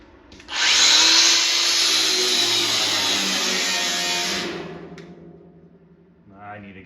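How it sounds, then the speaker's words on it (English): An electric grinder cuts at a welded compressor tank during fabrication, a loud high whine that starts abruptly, holds steady for about four seconds, then winds down, with a short rattle after. "I'll take my grinder here."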